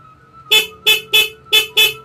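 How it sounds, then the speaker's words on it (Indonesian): A horn on a Honda GL Pro motorcycle, tested during an electrical charging check, gives five short, loud honks in a quick, even rhythm, close and with no voices. "klakson"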